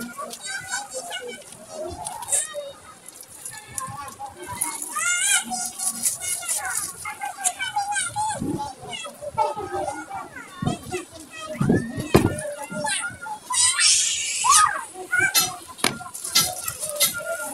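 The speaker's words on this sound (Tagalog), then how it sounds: "Pasensya na po, ang ingay ng bata." Noisy children play and shout close by in a busy home setting, their high voices chattering and squealing continuously, with occasional clinks of dishes and cutlery mixed in.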